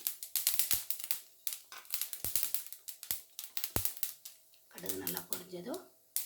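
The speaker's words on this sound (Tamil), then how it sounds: "இப்போ எண்ணெய் காஞ்சிருச்சு, கடுகு போட்டுக்கலாம். கடுகு நல்லா பொரிஞ்சதும்" Mustard seeds splutter in hot oil for an okra stir-fry, making dense, rapid crackling pops in close uneven bursts, with a short stretch of voice partway through.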